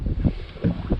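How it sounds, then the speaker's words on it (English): Gusty wind buffets the microphone beside a river on a windy day, giving a brief, low, rumbling roar that swells and dips in quick pulses with no voices. "This is a particularly windy day."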